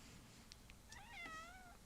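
A house cat lets out a single drawn-out, rising and falling meow, close and fairly clear over a low background hum, with no talk during it.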